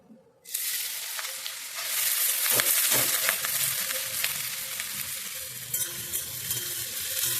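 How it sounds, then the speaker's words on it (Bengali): Bitter gourd and potato pieces hit hot oil with a sudden loud sizzle that rises and stays steady and dense, with occasional stirring scrapes near the middle. "এবার উচ্ছে ভাজাটা দিয়ে, মানে উচ্ছে আর আলুটা দিয়ে দেবো।"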